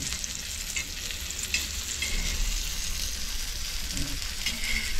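Ridge gourd slices frying and being turned in a pan, giving a steady close sizzle with faint scrapes of the spatula, continuous and even, with no talking.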